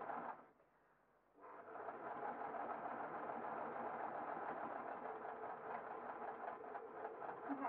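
Sewing machine stitching jersey binding over a seam on stretch cotton, starting after a brief pause and then running steadily with a close, even mechanical whir.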